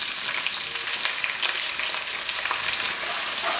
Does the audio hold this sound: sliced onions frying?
yes